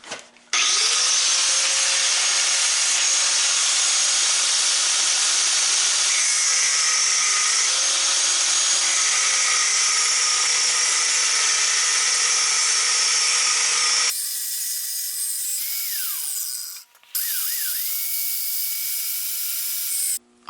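A loud, continuous power saw grinds through metal knife bolsters, a high sustained whine that shifts pitch partway through and briefly stops before resuming.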